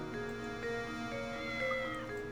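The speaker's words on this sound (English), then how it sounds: "Meow." A cat in the Professor Layton game meows faintly a few times over steady in-game music with a soft ticking beat, with no talk.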